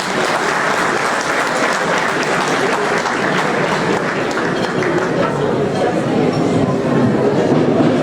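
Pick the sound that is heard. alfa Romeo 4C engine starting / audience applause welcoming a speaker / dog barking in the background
audience applause welcoming a speaker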